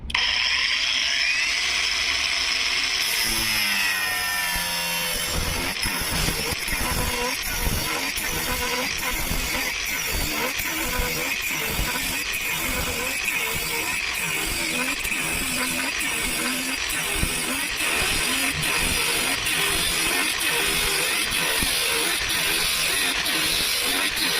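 A Revolt AG 20/125M angle grinder with a cut-off disc spins up and then cuts steadily for over twenty seconds, a loud, close whine with a fast rhythmic chatter and grinding rasp running throughout, with no speech.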